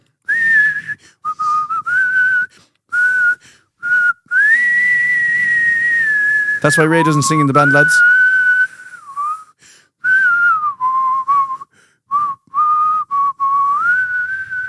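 A person whistles the carol Oh Holy Night as a clear, close solo melody in sustained phrases broken by short pauses, with a brief burst of speech partway through.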